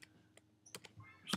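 A password typed on a MacBook keyboard: a few soft, sparse key clicks at irregular intervals, close and quiet, ending with a slightly sharper press.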